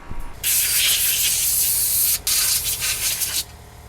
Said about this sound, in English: I'm going to use the air hose and blast all the residual media off of this thing